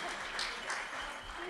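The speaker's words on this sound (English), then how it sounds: "You can clap for him then." Audience applause at a family Christmas concert: steady, dense clapping that fills the whole short stretch, with faint voices underneath.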